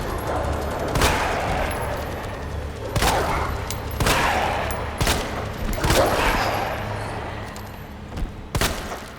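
Gunfire shooting zombie dogs in the Resident Evil 2 video game: a series of loud, sharp shots at irregular intervals of about one to two seconds over a rumbling game background.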